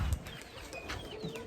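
Pakistani pigeons coo softly close by with a faint flutter of wings as they fly overhead, a steady low murmur running underneath.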